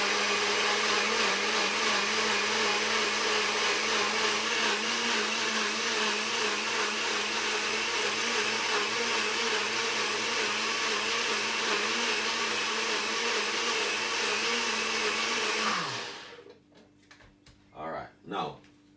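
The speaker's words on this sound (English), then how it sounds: "we're gonna blend this one up" A blender whirs loudly and steadily, blending cucumber and celery juice for about fifteen seconds before cutting off, followed by brief speech.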